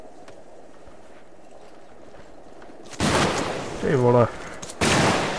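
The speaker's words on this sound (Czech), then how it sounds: "Střelba." Gunfire in Arma 3 erupts as loud, dense bursts of rapid shots and crackling fusillade, broken by brief gaps, with someone shouting over the noise.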